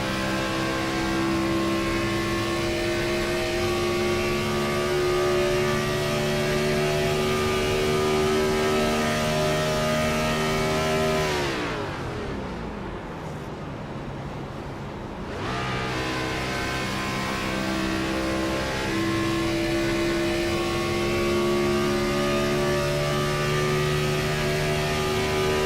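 A race car engine in an IROC series race at Las Vegas holds a loud steady drone, then the pitch sags as the driver barely lifts off the throttle mid-corner before climbing back to a sustained high whine.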